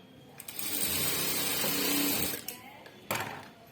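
A sewing machine runs a steady, continuous burst stitching darts on a blouse. The whirring is close and fairly loud, starts and stops sharply, and is followed by a brief second run.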